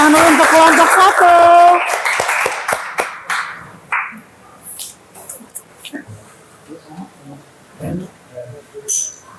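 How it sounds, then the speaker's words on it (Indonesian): Students in a classroom clap briefly for a presenting group, a short burst mixed with voices that fades after about two seconds, followed by scattered talk. "kita beri tepuk tangan dulu untuk kelompok 1."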